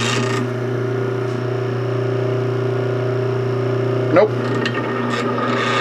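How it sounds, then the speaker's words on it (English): A South Bend toolpost grinder runs with a steady motor hum and a loose, buzzing rattle from its adjustment, holding constant throughout apart from a short knock near the end, with a voice saying one brief word. "Now that rattle you're hearing is just this adjustment here."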